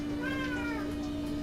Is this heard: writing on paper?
no